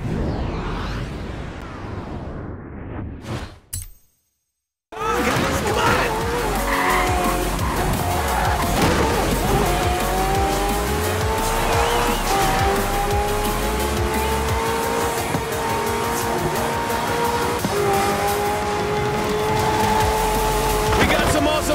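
Racing cars and hypercars in Forza Horizon 4 roar past with sustained, loud engine drone and long tire screeches, broken by a brief silent gap early on, continuous and dense throughout.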